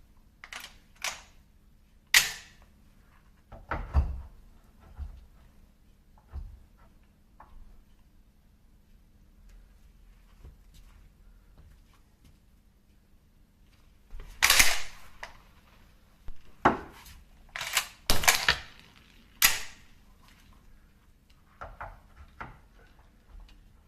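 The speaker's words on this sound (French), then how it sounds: "j'attrape d'abord l'arme par le garde-main et avec la main droite, j'actionne le charging handle" A shotgun is grabbed by its handguard and its charging handle is worked, giving sharp metallic clacks and rattles in separate clusters, with quiet stretches between them.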